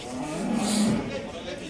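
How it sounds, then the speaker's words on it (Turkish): Black cattle at a livestock market in Akhisar, Manisa, a cow with her calf, give a loud drawn-out moo peaking mid-clip, set against steady market background noise. "Bunlar kara sığır. Yavrulu inek."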